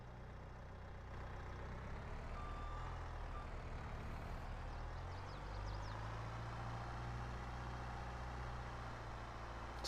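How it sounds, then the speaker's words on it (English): Skid steer in Farming Simulator 22 driving and reversing, a steady low engine drone with shifting pitch and faint reversing beeps, continuous and fairly close, no talk. "I think I'm gonna use the skid steer for that."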